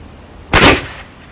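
A single sharp, loud gunshot from a muzzle-loading gun charged with black powder cracks out close by, with a brief roaring tail fading within half a second.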